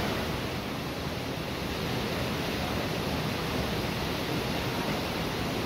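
The Misol-Ha waterfall in Chiapas, Mexico, roars as a constant, full, hissing rush of falling water, steady and unbroken throughout with no voices.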